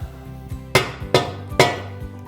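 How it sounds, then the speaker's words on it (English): Rubber mallet whacking a 2x4 to seat a hose-reel swivel bushing: three sharp, loud knocks at an even pace, each ringing out briefly, with a few softer taps before them, close up and with no talking. "just give it a couple good wraps with the rubber mallet"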